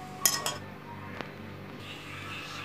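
A spoon or utensil clinks against a kitchen bowl while sugar and yeast are stirred together, giving a couple of sharp close taps and then a single faint knock over a quiet room.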